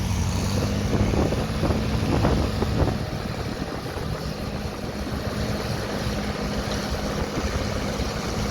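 An Allis-Chalmers 220 tractor engine drones steadily while pulling a five-bottom John Deere plow at an outdoor farm show in Rantoul. Wind buffets the microphone throughout, and the engine swells louder for the first few seconds before settling.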